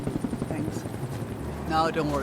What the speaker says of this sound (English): And there's a helicopter.